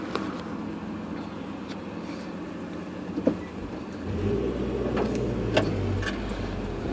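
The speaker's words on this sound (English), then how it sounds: "We just gonna keep driving for a little bit." Car driving along a road with a steady low engine and road rumble that grows slightly louder in the second half, with faint ticks and no talking.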